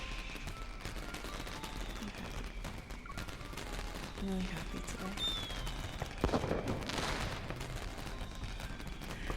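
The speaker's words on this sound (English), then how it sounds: "We run to the next corner and leave the cacophony of firecrackers behind." Firecrackers exploding in the video game Love & Deepspace, a dense, continuous crackle of rapid pops that thickens midway, with a voice talking over it.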